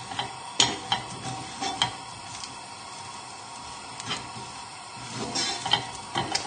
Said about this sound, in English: So just keep moving everything around in the pan,